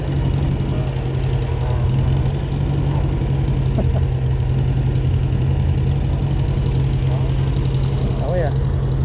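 An International Harvester 424 tractor engine runs steadily at an outdoor old-fashioned farmers day, a loud, constant low mechanical drone with knocking pulses and a strong hum, while people talk faintly in the background.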